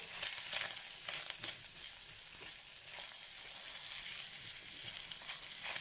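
Bacon crisping in a frying pan, a constant bright crackling sizzle with scattered pops, close and moderately loud with no voices.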